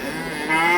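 A cow at a Samarkand livestock market gives a short, loud, close moo that rises in strength halfway through and holds steady to the end.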